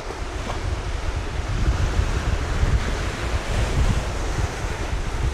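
Strong wind buffeting the microphone, a roaring gusty rush rising and falling, mixed with the wash of surf nearby.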